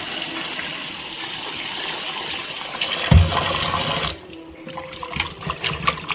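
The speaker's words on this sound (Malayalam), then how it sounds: "മഴ വീണ പോലെയാണ് ഇവിടുത്തെ പൈപ്പ്" Water gushes steadily from a tap in a heavy, rain-like spray for several seconds, then the flow changes and thins out into lighter splashing and drips.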